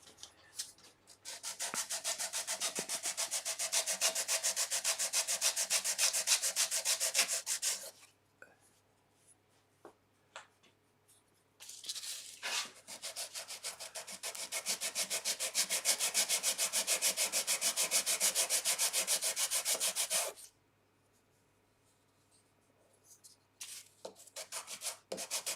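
A small wooden box piece with compound angles is rubbed back and forth on sandpaper laid flat on a bench, making two long, close, steady rasping passes separated by quiet pauses and brief handling sounds.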